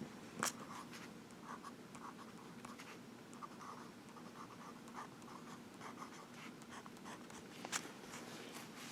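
A Visconti Chiantishire limited edition fountain pen with a 23K palladium nib writing on paper, producing soft, close scratchy strokes with occasional sharper taps, quiet and continuous.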